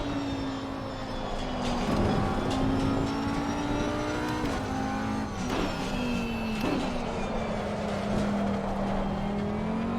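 An Audi GT3 race car in a racing video game drones with a steady engine tone that dips on each gear shift and then climbs again, repeating through the run with no talk.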